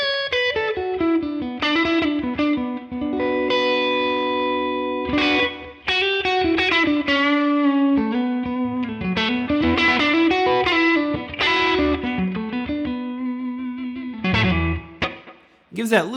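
Electric guitar played blues and slide style through a Neural DSP Tone King Imperial amp with the spring reverb turned up: sustained, gliding notes and short phrases ringing into lingering reverb tails, close and fairly loud with no talking.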